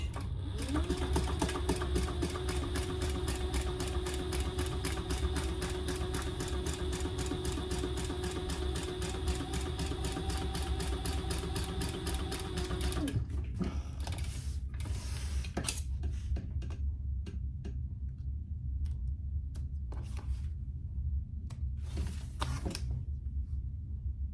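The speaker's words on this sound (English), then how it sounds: "We're going to top stitch right along here, 1/8 of an inch." A sewing machine top stitching a cork wallet an eighth of an inch from the edge: a steady, rapid mechanical whir and needle chatter running close for about thirteen seconds, then stopping, followed by scattered clicks and handling noises.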